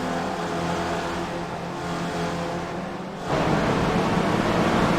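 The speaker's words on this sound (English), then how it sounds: "The engine noise is really terrible on that corner" A sim racing car engine in a video game drones steadily, then surges louder and harsher as it revs up, with no voices, during an online race at Okayama Short circuit.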